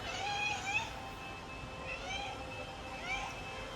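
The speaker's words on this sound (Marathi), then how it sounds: "मांजर आहे की बघू आता एवढं सकाळी." A cat meows repeatedly in the early morning, about three drawn-out calls a second or so apart, fairly faint against a steady low background hum.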